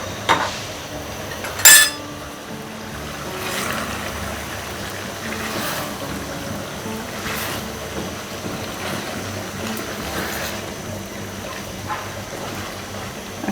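Stirring a large katla fish head in a cooking pan produces a steady low scraping and sizzle with soft clinks of a utensil against the pan, and one sharper metallic knock near the start; no one speaks.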